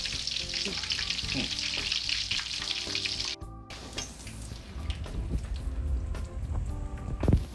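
Onion rings frying in hot oil, a loud continuous sizzle and crackle close up, with a brief dip midway and small popping spatters throughout.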